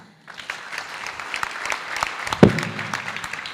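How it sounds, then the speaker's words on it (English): An audience at a Pan African university gathering breaks into applause, a steady patter of clapping that swells after a quiet start, with one sharp thump partway through. "I think we can do better with a clap."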